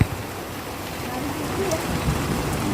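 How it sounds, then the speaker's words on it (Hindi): Heavy rain pouring during a thunderstorm, a dense steady hiss that stays loud and unbroken throughout. "ये देखिए गाइस बारिश हो रही है भयंकर वाली"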